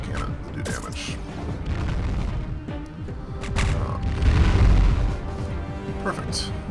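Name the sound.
portal cannon blast in video game Halcyon 6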